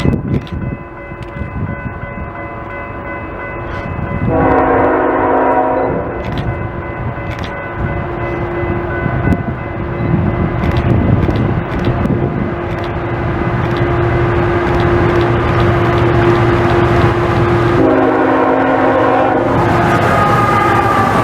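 A heavy Norfolk Southern freight train with auto-racks rumbles past in eastern Pennsylvania for a long stretch, its horn sounding in loud blasts near the start and again near the end.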